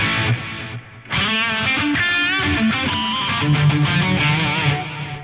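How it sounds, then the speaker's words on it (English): Distorted electric guitar phrases through an H3000 dual delay preset, repeating echoes trailing each note, layered delays filling the gaps, steady and fairly loud throughout. "This preset is like a dual delay thing."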